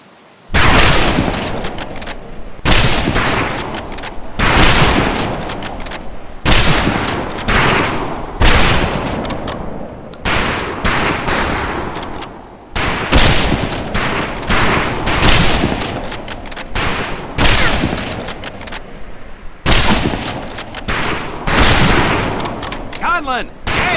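Video-game rifle fire on a military firing range rings out in loud bursts of overlapping shots, broken by brief pauses, with voices faintly mixed in.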